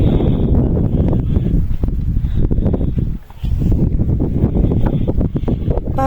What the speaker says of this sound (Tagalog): Grabe yung paspas ng hangin